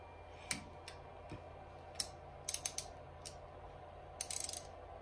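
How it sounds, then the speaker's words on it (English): Tightening nuts on the hold-down clamps of a mill vise: scattered metallic clicks and ratcheting ticks, including a quick rattling burst near the end, close and fairly quiet with no talking. "As I tighten down those nuts, that dial test indicator should not move."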